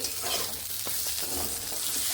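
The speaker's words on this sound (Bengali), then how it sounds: "ভাজা প্রায় হয়ে এসেছে" Vegetable scraps frying in oil in a pan, seasoned with salt and turmeric, giving a steady close sizzle with a few light stirring scrapes.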